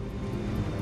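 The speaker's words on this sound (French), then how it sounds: "Le 747 accélère pour atteindre la vitesse de décollage" Boeing 747 accelerating down the runway for takeoff, a steady broad engine roar and rumble, fairly faint and continuous over a very short stretch.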